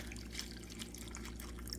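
A faint, steady trickle of liquid as a cucumber cocktail is poured into a glass, with no voices over it.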